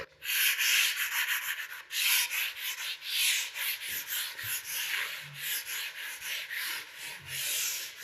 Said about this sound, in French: j'utilise un papier de verre monté sur un envers mousse parce que c'est des papiers qui permettent de poncer à sec et à l'eau